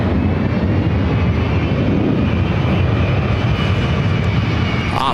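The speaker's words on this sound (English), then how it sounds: "This is the Avianca Vamos A330 heading back to San Salvador" Avianca A330 jet airliner at Los Angeles LAX airport, its engines giving a loud, steady broadband roar that holds evenly throughout with no talk over it.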